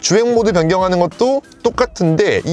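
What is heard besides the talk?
No distinct noise like a dog, phone or traffic.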